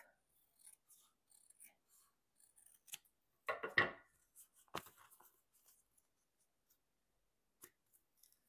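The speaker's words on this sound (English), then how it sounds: "this one's too, too short, so we'll just trim it off" Scissors snip and trim a page for a journal made from a repurposed leather pouch, a few quiet cuts building to a louder cluster of close, crisp snips, then sparse small handling clicks in a quiet room.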